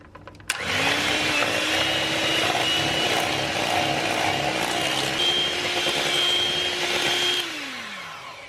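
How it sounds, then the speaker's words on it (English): Electric hand beaters whisk orange loaf cake batter in a bowl, a steady loud motor whir running for about seven seconds, then winding down as it is switched off. "for a smoother cake you can use electric beaters, which is what I'm going to do"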